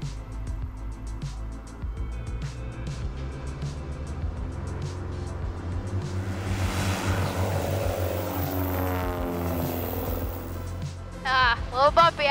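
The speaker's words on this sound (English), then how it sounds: "Cessna 170, 3224 Alpha is departing runway 36." A Cessna 170 propeller plane departing runway 36, its engine drone steady and building, with someone talking over it near the end.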